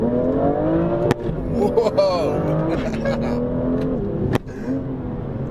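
A BMW M2 accelerating hard while drifting, its engine note rising and falling in loud, steady revving with brief sharp transients. A man briefly exclaims over it.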